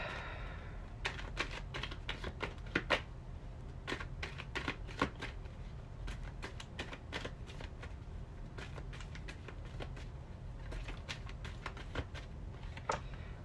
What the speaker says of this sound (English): Let's go and pull some more cards